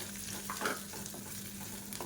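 Gentle, steady sizzling of grated coconut frying in ghee in a pan over medium flame, with a soft stir or scrape partway through, close and quiet.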